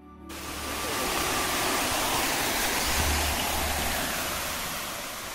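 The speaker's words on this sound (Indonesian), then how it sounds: "di depan kita sudah mendengar suara airnya yang cukup deras" Batu Gede waterfall at a mountain camping ground in Puncak pours down in a steady, loud, broadband roar of rushing water that fades in quickly and holds constant throughout.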